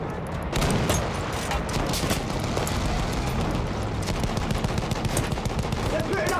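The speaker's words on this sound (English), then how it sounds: "Those machine guns are holding our lads back" Battlefield 1 machine guns rattle in dense sustained bursts amid scattered rifle shots and distant booms, loud and continuous throughout a chaotic battlefield.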